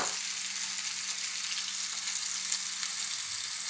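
Minced meat fries in a pan for a tomato-sauce lasagne, a steady close hiss and crackle that stays even throughout with no talking.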